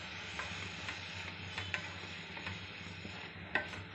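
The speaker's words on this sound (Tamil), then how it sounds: "அதை இப்படி ஒரு பிரட்டு அப்படி ஒரு பிரட்டிக்கிட்டே இருக்கணும்." Tomato rice being stirred in a pan on the stove, a soft continuous scraping and shuffling over a low sizzle, with a few sharper clicks of the spoon against the pan, close and fairly quiet.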